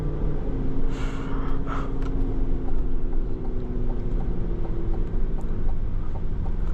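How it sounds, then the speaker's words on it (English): Hennessey H1000 Escalade-V, a 2025 Cadillac SUV tuned to 1,000 horsepower, with a steady low engine roar heard from inside the cabin while driving, loud and continuous with no talk. "I can't believe how crazy this vehicle sounds"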